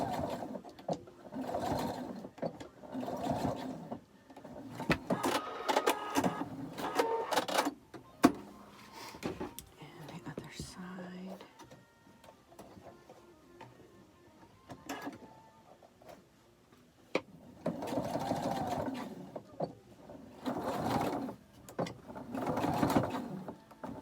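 Sewing machine stitching elastic ear loops onto a face mask, running in short bursts of rapid stitching with quiet pauses between them, close and clear.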